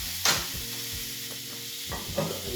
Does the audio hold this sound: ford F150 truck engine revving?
no